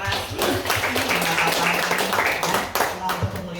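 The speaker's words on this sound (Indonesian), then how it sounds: "yuk kita kasih tepuk tangan sama buat panitia yang sudah bekerja keras" Congregation clapping for the organizing committee at a church service, a dense, steady patter of claps with voices and talk running underneath.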